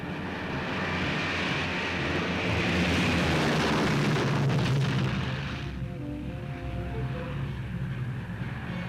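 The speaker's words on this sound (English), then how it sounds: "The whir of propellers and the lead plane roared into the skies." Heavy propeller plane engines roar, swelling and building, rumbling loudly before easing off, with a lower steady drone continuing afterward as the aircraft take off.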